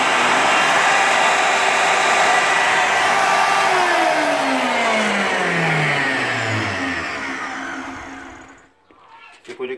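A Strung Hummer multifunctional woodworking machine with a circular saw and planer runs with a loud, steady, close motor roar, then its pitch sinks as it winds down to near silence, followed by a few faint knocks.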